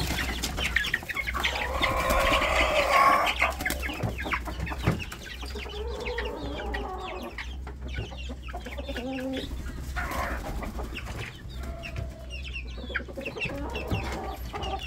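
Chickens and chicks cluck and peep in a poultry house. Busy overlapping clucking is loudest early on, then gives way to scattered calls and soft chick cheeps, near and continuous.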